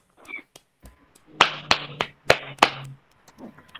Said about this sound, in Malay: tepuk tangan sikit Elin, tepuk tangan sikit